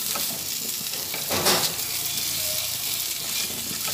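Spices with turmeric frying over a low flame in a pan, giving a dense, steady close sizzle with a brief swell of stirring midway.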